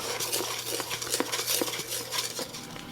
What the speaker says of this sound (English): You do need to watch it though, and pretty much continuously stir it to keep it from scorching and burning.